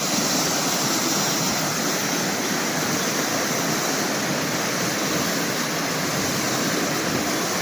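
A forest stream or waterfall rushes steadily, a dense, loud, unbroken roar of flowing water with no pauses.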